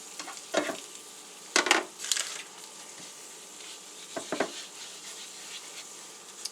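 Korean street food cooks in butter on a griddle, a faint steady sizzle broken by a few sharp scraping stirs of a spatula, heard close with no talking.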